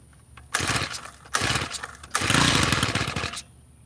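A small tiller engine sputters while being started, three rough bursts of running that each catch briefly and die, the last lasting about a second, loud and near over a faint steady background whine.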